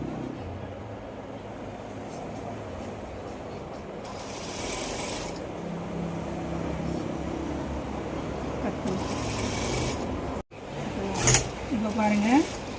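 A sewing machine stitches pieces of cloth together with a steady, close mechanical whir that rises in brief louder bursts, and a voice can be heard in the background.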